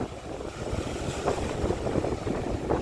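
Strong wind and rough sea waves at a seashore on a stormy day, heard as a dense, close roar of gusts buffeting the microphone over the rumbling wash of surf.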